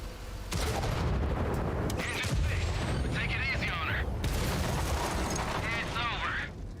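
Heavy tank cannon fire in World of Tanks on console, with booming shots and dense rumbling battle noise running continuously throughout, loud and close.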